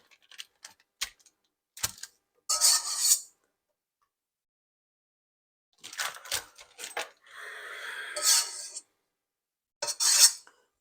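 Banana nut bagel dough is mixed by hand in a bowl, heard as scattered clicks and bursts of scraping, rubbing strokes separated by silent pauses.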